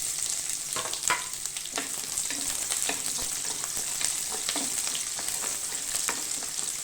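Onion, garlic, ginger and dried red chillies sauté with fenugreek in hot oil for a fish curry, giving a dense continuous sizzle and crackle with a few stirring knocks and no voices.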